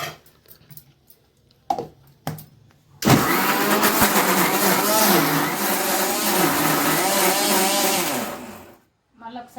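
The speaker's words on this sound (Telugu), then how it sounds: "మళ్ళీ ఒకసారి మిక్సీ పట్టుకున్నా." A kitchen mixer grinder whirs loud and steady for about six seconds as it grinds coconut with sesame powder for nalleru chutney, after a few short clicks and knocks, then cuts out.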